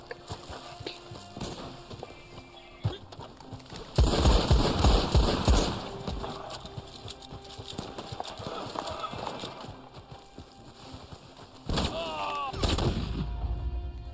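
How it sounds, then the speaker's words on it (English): Shotgun blasts go off amid a gunfight in the Red Dead Online video game, heavy booming shots over clip-clopping horse hooves, with scattered game sounds in between. "Damn, shotgun again."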